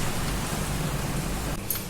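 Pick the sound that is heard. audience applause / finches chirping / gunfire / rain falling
rain falling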